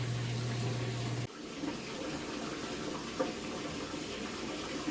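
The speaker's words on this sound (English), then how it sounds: "I'm gonna go ahead and dump it and fill up another one so I can rinse out this one." Dirty aquarium water being dumped out and a container refilled, heard as a steady rushing pour that briefly dips and then carries on at a continuous close, loud level.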